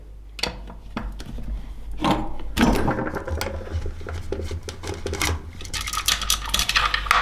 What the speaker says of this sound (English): we'll remove these 4 bolts here, which are a 5mm Allen key